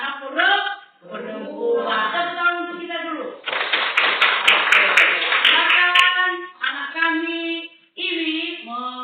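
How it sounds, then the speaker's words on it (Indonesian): Children in a sixth-grade primary school classroom clap their hands in a short burst of rhythmic applause, with a teacher's voice speaking before and after. "Tepuk tangan untuk kita dulu."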